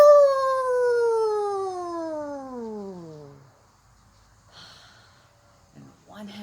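A person imitates a wolf howl with the voice, one long falling howl lasting about three seconds, followed by quiet breathing and faint sounds.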